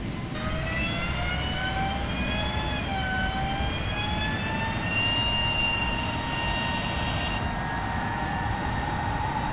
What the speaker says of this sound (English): Listen to the engine. That's the engine right there, spinning up.